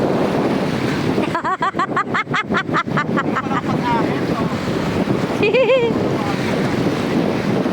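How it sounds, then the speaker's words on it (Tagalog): Loud, constant rush of ocean surf and wind dominates, with a rapid rattling pulse and a brief voice cutting through the roar. "Dinadala siya ng alon eh."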